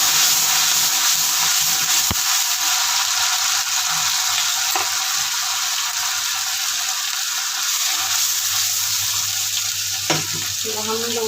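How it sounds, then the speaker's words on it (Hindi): Onions fry in oil in a pan for mutton karahi, with garlic ginger paste going in, giving a loud, steady crackling sizzle throughout, broken by a few scraping stirs and light metallic clinks of a spoon. "ये देखो हमारे प्याज फ्राई हो चुके हैं तकरीबन।"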